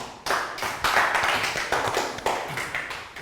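Classroom clapping during a Year 3 maths lesson: a short burst of hand claps from a group of children, fairly close and steady for about three seconds, with no talking over it.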